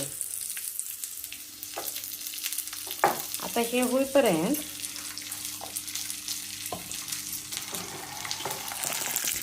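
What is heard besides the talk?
mustard seeds, cumin and peanuts frying in kadhai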